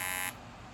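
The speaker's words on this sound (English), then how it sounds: "it's playing a quick alarm because I'm clicking enter" A short, loud electronic alarm buzz sounds for a fraction of a second, then cuts off into quiet background hiss.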